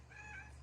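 A house cat gives a single short meow, close by but quiet, with nothing else around it.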